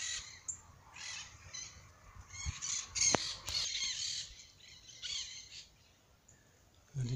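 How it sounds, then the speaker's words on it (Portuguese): Crows cawing outdoors near houses and trees on a small town's edge, intermittent harsh calls with some chirps, fairly distant and faint over a quiet background. "É um espetáculo dos passarinhos."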